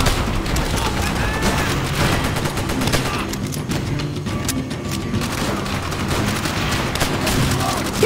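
Sustained, loud gunfire from a World War II battle in Call of Duty: World at War, with rapid rifle and machine-gun bursts and booming blasts piling up continuously.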